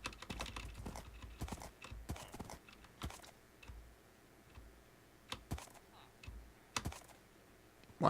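Horse hooves in the video game Minecraft clop in quick irregular bursts of sharp, clicky, close hits, separated by short pauses.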